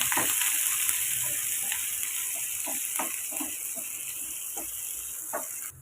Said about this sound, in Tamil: கடுகு ஜீரகம் பொரிஞ்சு கட் பண்ண வெங்காயம், காரத்துக்கு மிளகாய் வத்தல் சேர்த்துக்கோங்க. 1 நிமிஷம் நம்ம வதக்கி விட்டுக்கலாம்.